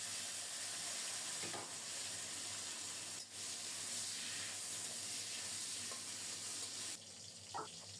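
Pieces of young eggplant fry in hot oil, giving a steady, fairly faint hissing sizzle that runs throughout with a few light clicks of stirring.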